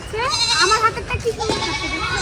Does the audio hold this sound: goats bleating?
yes